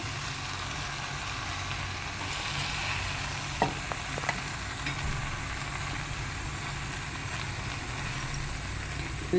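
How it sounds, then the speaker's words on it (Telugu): Boiled basmati rice is mixed into gongura potato pulao in a pan, a low continuous sizzle with a few light spoon knocks and scrapes near the middle, close and without talk. "బాస్మతి బాయిల్డ్ అయిన రైస్ దీన్ని ఇలా కలుపుకోవాలి"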